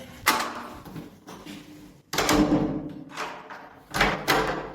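A self-closing, spring-loaded fire-rated door fitted with a Carbine Nighthawk swings shut and latches, giving three sharp, loud thuds spaced over a few seconds, each trailing into a brief rattle.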